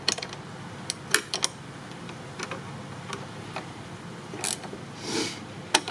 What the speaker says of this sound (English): You get you a Phillips screwdriver and a 3/8 combination wrench, and you just want to loosen these screws up just a little bit